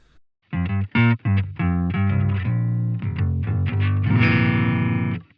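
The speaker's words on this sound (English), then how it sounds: "the last effect here we have is the poly pitch" A Line6 Helix poly pitch effect on electric guitar rings out in thick, distorted chords with shifted harmony layers, a few short stabs followed by long sustained strums, loud and close.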